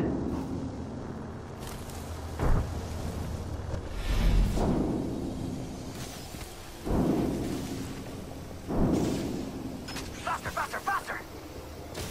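Frag grenade detonations in the Apex Legends battle royale, several deep rumbling booms spread over the moment amid gunfire-like rustle, with a player's voice talking over them.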